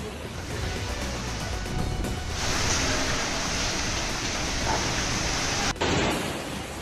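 Torrential rain pours down without letup during monsoon flooding, a loud, broad, unbroken roar of falling water with one sharp break near the end.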